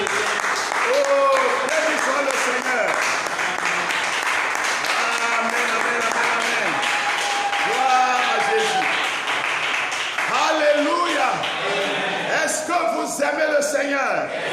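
A church congregation applauds continuously, a dense wash of clapping that fills the room, while voices call out and talk over it throughout.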